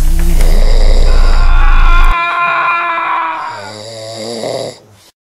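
Loud, close snoring with a drawn-out, wavering rasp that trails off and fades at the end.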